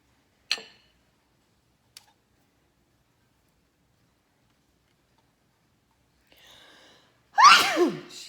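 A woman sneezes once, loud and close near the end, after a couple of brief faint ticks and a long stretch of near silence.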